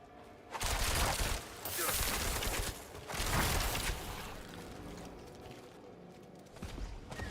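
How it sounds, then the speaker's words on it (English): Rapid-fire chain guns shoot in Diablo 4. Three loud, rattling bursts come in quick succession, each lasting about a second, followed by quieter, scattered combat noise. "And I like my chain guns, my rapid-fire weapons."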